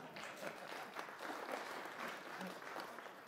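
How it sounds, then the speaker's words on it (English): An audience at a slide show on skiing in Crested Butte and Gunnison Country applauds, steady, fairly faint clapping from many hands without a break. "I would suggest again that we give him another round of applause"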